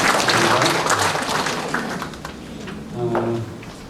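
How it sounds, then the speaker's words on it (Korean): Audience applause at a poetry lecture, a burst of clapping that fades out, with a voice speaking toward the end. "일단 박수 드리겠습니다."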